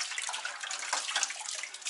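A rag sloshes in a bucket of clean water while tile is being cleaned, a close, continuous splashing and trickling with small bright droplet sounds.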